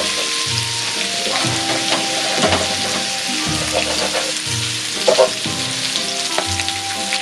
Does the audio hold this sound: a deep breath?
no